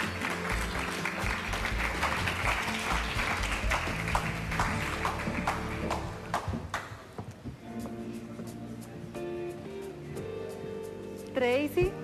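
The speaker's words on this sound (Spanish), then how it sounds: "La recibimos con un fuerte aplauso." A television studio audience claps to welcome a guest, loud dense applause for about six seconds that then fades out, giving way to quieter background sounds.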